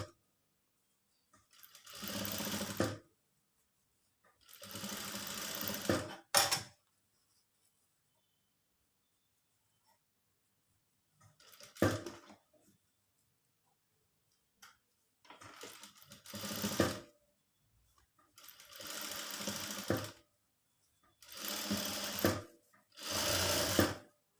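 Sewing machine stitching zari embroidery around the neck of a blouse, running in six or seven separate bursts of a few seconds each, split by short silent pauses.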